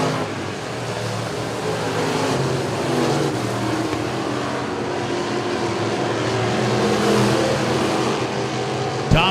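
Race cars at Clarksville Speedway roaring past in a continuous loud engine drone that swells and fades slightly as they circle the track, a crowd-level wash of sound with a sharp burst at the very end.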